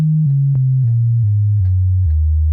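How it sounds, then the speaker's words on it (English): A single sine wave oscillator on an analog synth plays at a low octave, a pure deep tone stepping down in pitch in several clean stages, with soft clicks at each change, alone and steady. "I'm going to cut oscillator 1 and oscillator 2 and just have oscillator 3 on, which is just our sine wave at a low octave."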